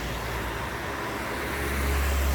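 Cars passing on a road near a roadside stall, a continuous wash of traffic noise with a heavier vehicle rumbling closer and louder toward the end, and no one speaking.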